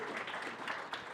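Applause for a community economic development team at a weekly meeting, a steady wash of many hands clapping through the whole short moment, moderately loud.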